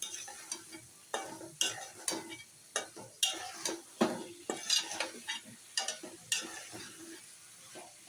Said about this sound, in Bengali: এখন আমি মাছটা মাখাই নেব